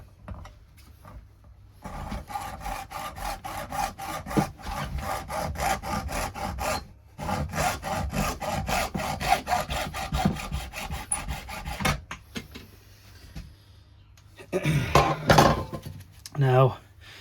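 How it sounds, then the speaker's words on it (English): A hacksaw cuts off a plastic hose tail on a pipe fitting, with rapid, steady back-and-forth rasping strokes for about ten seconds, then a pause and a few handling clatters and knocks. "I'm going to use my hacksaw"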